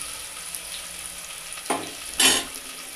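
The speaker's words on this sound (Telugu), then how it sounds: "వేసిన ఒక 1 మినిట్కి ఫ్రై అయితే చాలు" Mint leaves fry in a pan for a chicken curry, with two short, sharp sizzling bursts over a quiet background.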